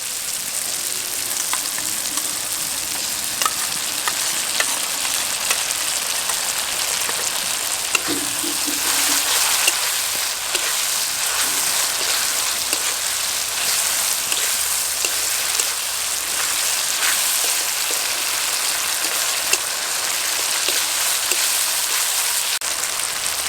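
Spice paste (masala) for an egg curry sizzles and fries steadily in a pan, with occasional soft stirring scrapes over the constant hiss.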